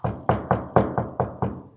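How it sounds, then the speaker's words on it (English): Seven firm knocks on a front door, evenly spaced and close by, each a sharp hollow rap with a short ring-off, heard alone with no voices. "somebody knocked"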